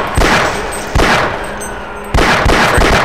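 Three sharp pistol shots from the Half-Life video game, loud and close, each a hard crack with a ringing tail, spaced unevenly with a longer pause before the third.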